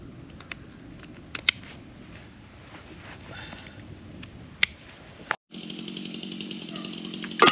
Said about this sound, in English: Whenever I start working with the chainsaw, I always start with the easiest thing first